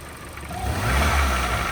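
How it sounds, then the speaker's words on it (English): A Vauxhall Corsa VXR with a suspected air filter fault revs briefly from idle, the engine note rising and holding with a rough, strained mid-range drone, close and loud with no talking. "Leo, please do not rev it like above 2k"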